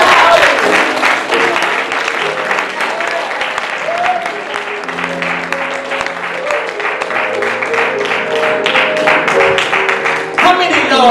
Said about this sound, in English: y'all give God a hand clap.